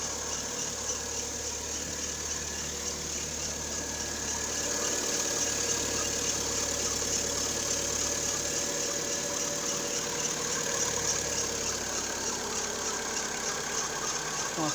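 Volkswagen Gol G5 engine running at idle just after starting with a dead battery, a steady mid-pitched hum with constant vibration and a faint high whine, unchanging for about fifteen seconds.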